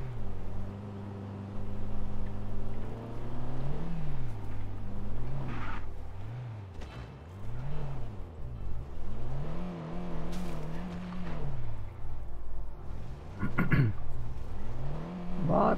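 A car in the video game Just Cause 3 drives with a loud, continuous engine drone that rises and falls as it revs and shifts, close and steady throughout, with a few brief sharper noises near the end.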